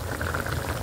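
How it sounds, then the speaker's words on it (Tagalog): Water comes to a boil in a pot for miswa noodle soup with loofah and dried anchovies, a brief, dense bubbling and gurgling close by with no voices. "Ayan na po siya, kumukulo na po."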